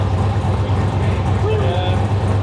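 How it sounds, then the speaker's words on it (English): A farm truck engine runs with its turbo audible through the exhaust: a steady, close low rumble with a faint rising whine partway through. "you can actually hear the turbo through the exhaust"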